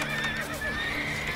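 A horse whinnies and its hooves clop along in The Witcher 3, the neigh rising clearly over steady game ambience and a low background hum.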